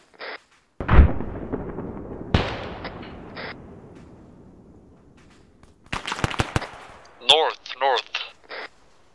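Mortar impacts and gunfire in the military shooter Arma 3: sharp booming blasts with long rumbling decays, then a close cluster of rapid shots, with a voice talking briefly over the firing.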